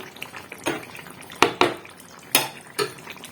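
A metal lid is lifted off a pot of dudh shukto with boiled lentil dumplings, giving several close, sharp metallic clanks and clatters over a faint background hiss.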